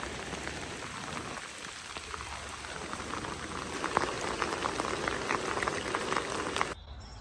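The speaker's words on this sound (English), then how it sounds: "now it is starting to very much rain" Heavy rain pours steadily outdoors over a work site where tools are left out, a dense continuous hiss of drops hitting surfaces that swells slightly midway before cutting off near the end.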